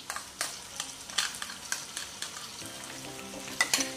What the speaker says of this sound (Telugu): వేసి ఒకసారి బాగా కలుపుకుందాం